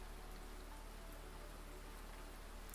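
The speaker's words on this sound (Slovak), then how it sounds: "A teraz opäť počúvaj dážď." Steady rain patters evenly on a surface, a soft, constant hiss that carries on unchanged for a few seconds with no voices, setting a calm meditative scene.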